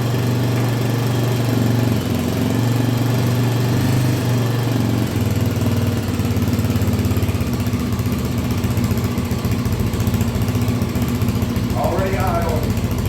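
A 1984 Honda XL350R motorcycle engine, just restarted after years of sitting, idles steadily with a loud, close, even putter throughout, and a brief higher burst near the end.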